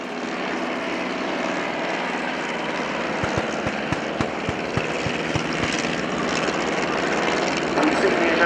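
A Royal Aircraft Factory BE2 biplane, a 1912 de Havilland design, runs in at the RIAT 2018 airshow at Fairford trailing smoke, its propeller engine giving a steady, moderately loud drone with slight pulsing beats.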